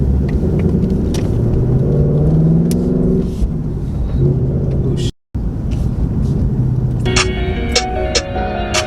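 A Ford Mustang S650 with a Steeda clutch assist spring on a test drive: loud, continuous engine and road rumble heard from inside the car, broken by a brief cut, with some higher tones toward the end.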